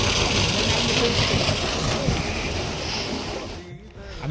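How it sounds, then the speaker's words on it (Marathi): Water gushing under pressure into an open well, a loud continuous rushing and splashing roar that holds steady throughout and eases off slightly at the end. "पाण्याचा प्रेशर बघा कसा आहे."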